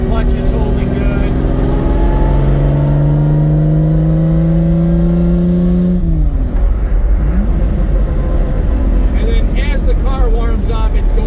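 A Lamborghini Miura SV engine rises in pitch through a gear, drops sharply as it downshifts, then keeps droning loudly, with someone talking over it.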